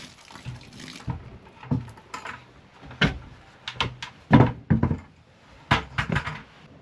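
Water from a tap in a tiny house gushes at high pressure into a container, heard as loud irregular splashing bursts without speech.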